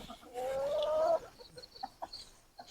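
Hens in a new winter pen cluck and squawk close by, one drawn-out rising call followed by short, scattered clucks.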